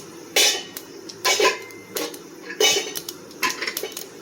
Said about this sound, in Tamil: கடுகு பொரிஞ்சுன்னு இருக்குங்க.